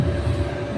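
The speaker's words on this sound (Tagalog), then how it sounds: "ang lakas ng sound at saka yung ugong ng aircon yata." Air conditioning at a bus terminal gives a loud, steady low hum with a throbbing, pulsing bass drone, continuous throughout the short stretch.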